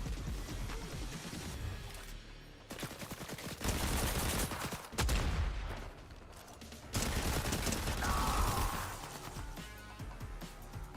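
A video game shooter fills the air with dense bursts of gunfire and rapid automatic volleys, loud and close, with brief pauses between the barrages.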